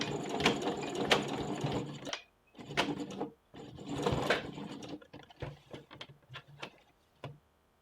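A sewing machine stitches a bishop sleeve with a short 1.5 stitch length over a small area, running in several bursts with brief pauses between them.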